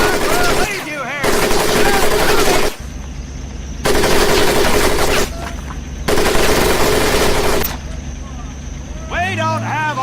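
Heavy machine gun fire from the Medal of Honor: Pacific Assault video game comes in loud, sustained bursts with short gaps between them, and a shouting voice rises near the end.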